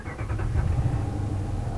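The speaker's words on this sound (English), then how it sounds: "So if we were to start up the vehicle here" A Hemi V8 engine turns over and catches, settling into a low, steady rumble with brief cranking pulses at the start, close and continuous with no talk.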